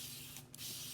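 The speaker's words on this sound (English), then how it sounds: "I'm going to spray this with some water" A spray bottle mists water onto a chalkboard sign in a steady, soft, close hiss that dips briefly in the middle.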